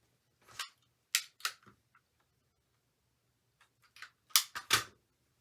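A rotary cutter slices through quilt fabric in a few sharp, quiet crunching strokes, grouped into two separate bursts with silence between them.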